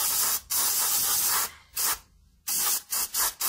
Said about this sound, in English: you want to go ahead and spray down this area right here